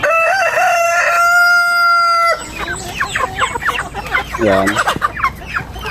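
Rhode Island Red chickens feeding. A rooster's long crow comes first, then busy overlapping clucks and squawks from the flock, close by, with a brief spoken word.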